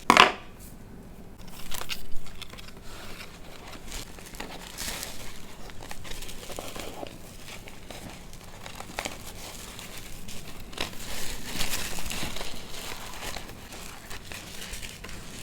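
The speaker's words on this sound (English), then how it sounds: "Only then I will cut the excess of the burlap at the top." Burlap fabric being tied and trimmed around a floral sponge in a small bowl for a flower wrap, heard as steady close crinkling and rustling with occasional sharper snips and handling bumps.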